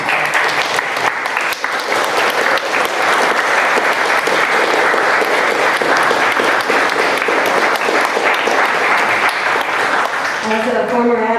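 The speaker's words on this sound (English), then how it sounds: "So let's give Dr. Zander another round of applause." Sustained, loud applause from an audience at the Optimist Club of Malibu Music Festival, a dense wash of many hands clapping steadily for over ten seconds, tapering at the end.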